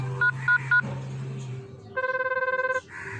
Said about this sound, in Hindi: फोन पर बेल तो जा रही है। बज रहा है।